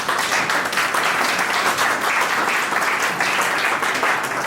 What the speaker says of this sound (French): j'allais applaudir, malgré tout.